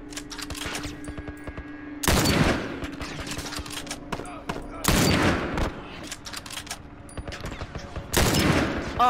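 Three loud, close gunshots in The Last of Us Remastered, spaced roughly three seconds apart, each cracking sharply out of a quiet background.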